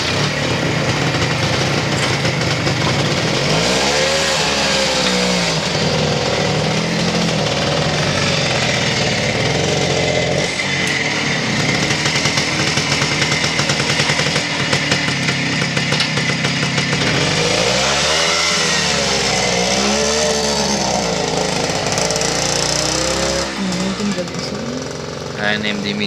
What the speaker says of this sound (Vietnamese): Cái tiếng mà các bạn vừa nghe hồi nãy là chiếc Minker.